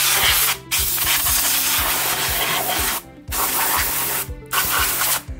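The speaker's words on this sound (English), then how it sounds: "Canned air is your friend." Canned air blasting into a Hartke bass amp during cleaning, loud close hissing sprays in long bursts with brief gaps between them, no talking.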